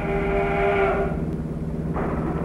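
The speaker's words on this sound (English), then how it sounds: "A train is coming." A train rumbles past with a low steady roar and a short whistle blast early on, heard from inside a moving bus in 1945.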